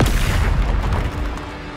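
A Confringo blasting curse explodes in Hogwarts Legacy: one heavy, booming blast with rumbling low end and crackling debris that gradually fades over almost two seconds.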